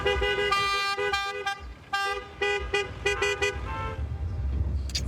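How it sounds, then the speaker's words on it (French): Car horns honk for a wedding in a chorus of short and long toots, some in quick rhythmic bursts and others held. They sound close and loud over a low rumble of road traffic. "Les voisins vont devoir se réhabituer au concert de klaxon."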